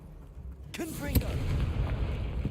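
A Confringo explosive spell cast in Hogwarts Legacy lands as a sudden magical blast followed by a sharp crack and a rumbling fiery tail, with a voice faintly present.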